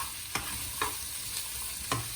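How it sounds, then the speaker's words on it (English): Onion frying on a low flame, a steady soft sizzle with a few light stirring scrapes spaced out over two seconds. "Now you see the onion getting fried in low flame."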